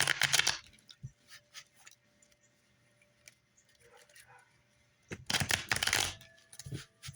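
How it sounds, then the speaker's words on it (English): Tarot cards are shuffled in two brisk bursts, with faint taps and rustles of handling in the quieter stretch between. "Just felt the need to shuffle that way a little bit."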